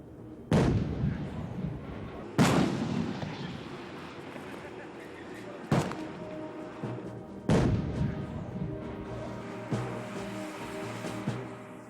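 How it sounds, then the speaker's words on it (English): G6 self-propelled artillery gun firing, four heavy booms a couple of seconds apart, each a sharp blast followed by a long rumbling decay, heard at a distance with narration layered over them. "The firepower of the G6 is tremendous, as evidenced by this demonstration."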